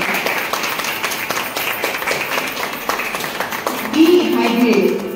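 Applause at a temple classical music concert during Devi Navaratri, a steady patter of clapping from the audience running under continuous talking, swelling somewhat louder near the end.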